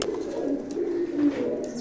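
A male pigeon coos loudly and close by in a run of throaty, rolling calls lasting under two seconds, with no voices.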